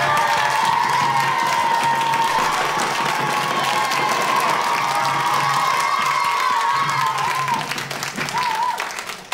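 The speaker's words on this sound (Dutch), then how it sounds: "Dus daar wil ik graag even een applaus." Loud applause and cheering from a television game show studio audience, with shouts and whoops over continuous clapping, sustained and then fading near the end.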